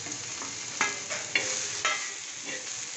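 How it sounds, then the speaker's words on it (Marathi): Long-sliced onions roasting on a tawa, a constant dry sizzle with a few distinct scraping strokes of a spatula, close and moderately loud, with no talking. "कांदे बघा आपले भाजत आलेत"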